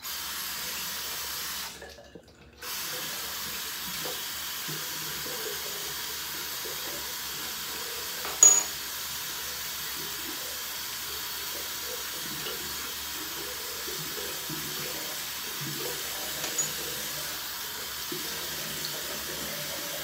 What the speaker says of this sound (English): Let's go ahead and rinse off the face and the razor